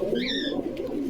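Pigeons at a pigeon farm market in Bogura, a close low cooing murmur with a brief higher whistling call near the start, no clear speech.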